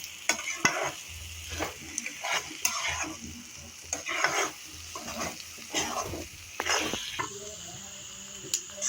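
Eggs sizzle as they fry in a pan, with repeated stirring and scraping strokes at an uneven rhythm over the steady crackle, heard up close.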